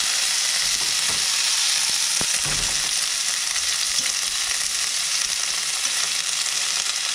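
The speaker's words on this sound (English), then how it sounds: "we're going to add our carrots and onions." Carrots and onions sizzling and frying in a hot pan, a loud continuous hiss with a few stirring scrapes and clacks near the start, close up and without talk.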